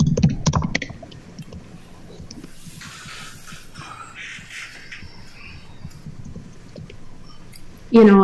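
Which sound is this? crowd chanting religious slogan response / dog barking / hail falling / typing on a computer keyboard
typing on a computer keyboard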